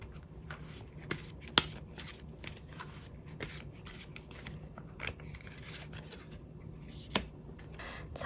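Tarot cards are shuffled and drawn by hand, giving soft papery rubbing with scattered sharp flicks and slaps at irregular intervals, close and quiet.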